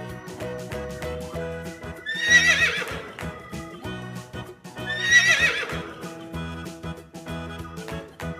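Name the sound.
horse neighing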